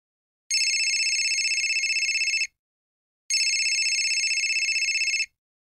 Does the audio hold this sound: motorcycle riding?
no